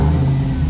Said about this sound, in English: Give it a rev real quick.